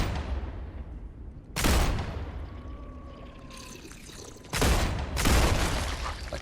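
Gunfire rips out in short loud bursts in the StarRupture video game, one volley early on, then two more close together later, with a quieter background hum and faint tones between them.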